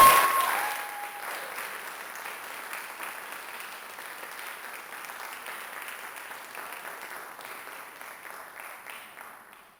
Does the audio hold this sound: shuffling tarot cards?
no